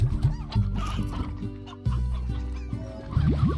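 Chickens in the Slime Rancher video game cluck in quick bursts, several birds overlapping with short game tones and effects, loud and close.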